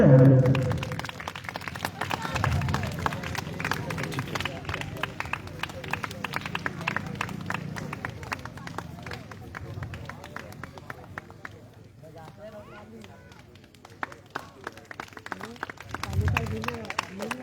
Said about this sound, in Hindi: सभी बच्चे ताली बजाते रहे।